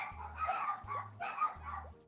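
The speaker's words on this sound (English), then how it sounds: "Sounds like my dogs." Several dogs bark in three quick bursts, yapping and yipping indoors at moderate distance, with no talk over them.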